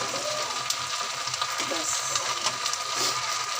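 Vegetable bhaji sizzling and frying steadily in a pan on a stove, a continuous close hiss with light stirring scrapes, and a brief spoken word over it.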